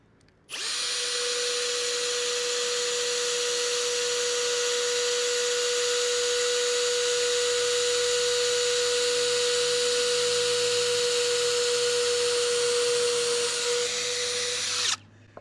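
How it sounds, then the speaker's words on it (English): A power drill boring a pilot hole in wet wood whines at a constant high pitch for about fourteen seconds, starting abruptly and cutting off at the end, loud and close. "I'm going to drill a pilot hole"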